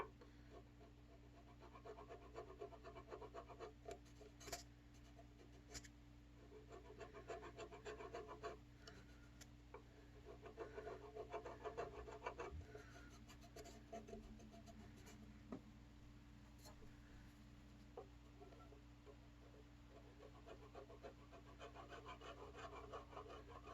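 A finer file rasps steadily across the wood of a ukulele under construction, a soft continuous scraping with faint strokes repeating over a low background hum, no voices.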